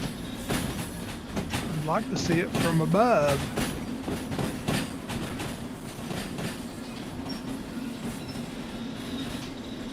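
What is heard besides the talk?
long freight train rolling on rails, video game Derail Valley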